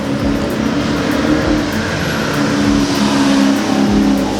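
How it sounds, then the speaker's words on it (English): Steady roadside traffic, cars driving past one after another with engines revving and droning loud and close, a continuous rush with no speech. "Just a ton of cars driving by."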